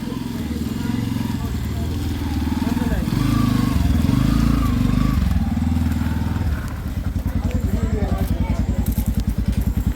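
A motorcycle engine rumbles close by, growing louder and revving before settling into a rapid, rhythmic putter.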